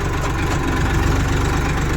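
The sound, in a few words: tractor engine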